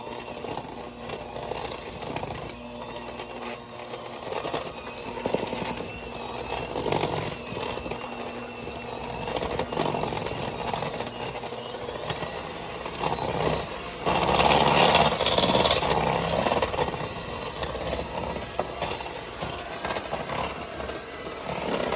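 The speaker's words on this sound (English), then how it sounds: "I usually just mix it on low at first to get everything mixed up, and then I'll switch over to high." An electric mixer beats cake batter, running at low speed first and then switched up to high, a steady whirring motor drone that grows louder and busier partway through, with no talking.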